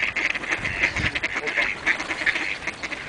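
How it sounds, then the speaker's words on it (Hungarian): A crowd of ducks and other water birds quacking and honking while being fed at Siófok harbour on Lake Balaton in winter, busy overlapping calls close by, continuous and fairly loud with no talking. "Érkeznek a madárkák."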